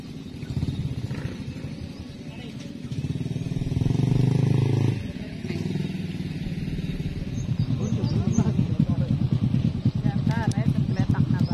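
Engine of a traditional wooden river-crossing boat on a river in Kampung Sukase, a steady mid-distance motor drone running continuously beneath a man's chatter, swelling louder at moments.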